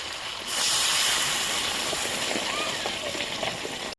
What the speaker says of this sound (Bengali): এখন আমি গরম পানিটা দেবো।